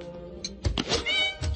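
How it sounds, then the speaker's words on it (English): A cat meows in a short, tonal cry with a couple of brief rising and falling calls, close and fairly loud, amid light background noise. "Ooh, that darn cat!"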